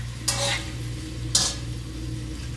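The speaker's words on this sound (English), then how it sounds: "Stir that up a little bit." Vegetables for a keto Philly cheesesteak casserole being stirred in a hot pan, two brief scraping bursts of the spoon over a steady low sizzle, close and fairly quiet.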